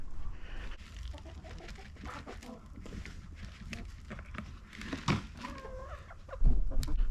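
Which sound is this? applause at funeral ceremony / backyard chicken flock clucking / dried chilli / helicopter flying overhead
backyard chicken flock clucking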